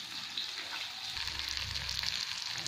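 Bitter gourd frying in oil in a pan: a soft, steady sizzle with a faint bubbling undertone, heard quietly and alone throughout.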